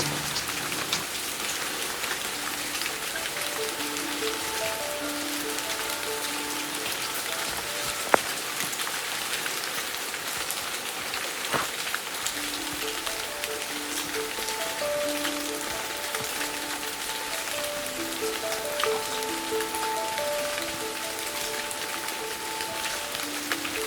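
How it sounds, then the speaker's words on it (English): Heavy rain pours down in a low-lying forest on the Cooloola Great Walk, a dense, continuous hiss of drops striking leaves and surfaces nearby, with a few sharper taps standing out. "the rain's coming down a little bit more heavily now"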